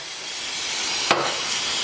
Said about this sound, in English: go ahead and spray some brake cleaner in here.